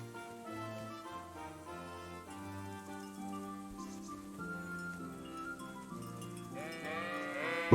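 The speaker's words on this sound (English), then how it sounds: "Ooh, sheep." Sheep bleating in the Kingdom Come Deliverance video game, several wavering calls heard over soft background game music, fairly quiet, with a louder bleat near the end.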